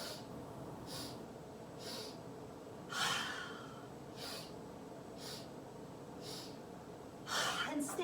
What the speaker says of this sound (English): let's go through 3 rounds of breath of joy